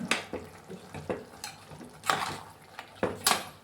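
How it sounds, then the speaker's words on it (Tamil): One kilogram of green peas being stirred in a pan for a pea gravy, with a spoon scraping and clinking against the metal in irregular strokes, close and fairly quiet. "1 கிலோ பச்சை பட்டாணியை அதில் கொட்டி நல்லா கிளறணும்."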